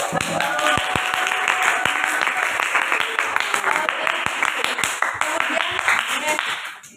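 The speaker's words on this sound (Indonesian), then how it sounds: "Tepuk tangan, Bro." A classroom audience at a teacher-training session in Semarang breaks into loud, dense applause, many hands clapping steadily for several seconds with sharp individual claps, then trailing off at the end.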